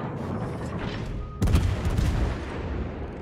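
Heavy naval guns fire in a warship combat game, a sudden loud boom at mid-clip cutting through a steady rumble of battle noise and continuing as a dense roll of cannon fire.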